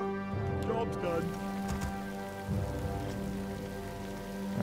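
Rain ambience in Warcraft 3 Reforged falls as a steady, even patter beneath a sustained musical drone, with brief unit voice lines breaking in near the start.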